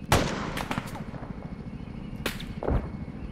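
Mortar fire in the combat game ArmA 3: a few sharp booming reports stand out, with one near the start and others around two and three seconds, over a steady rumbling battlefield background and no talk.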